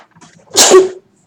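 One loud, close sneeze, a quick sharp burst lasting under half a second, with near silence before and after.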